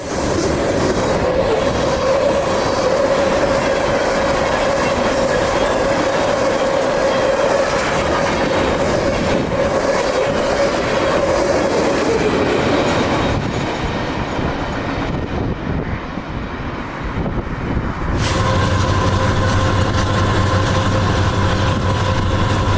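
A long CSX freight train rumbles steadily past nearby on track toward Waycross, with continuous rolling wheel noise, metallic rattling, and occasional squeals over the whole stretch.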